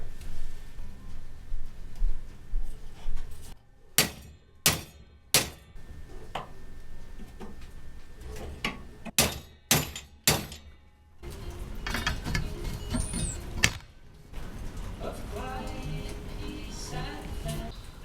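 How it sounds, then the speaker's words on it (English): A bent handlebar from a 1971 Honda CT90 is forced straight in a vise using a long steel pipe for leverage, giving a run of sharp, close metallic clanks and knocks between creaking, ratcheting mechanical noise. "I should just need to use a big pipe for some leverage, clamp it in the vise, and see if I can bend it back straight."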